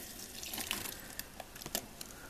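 Water splashes and trickles steadily as it is poured into a dry flush toilet, close and fairly quiet, with a few brighter spattering bursts and no voices.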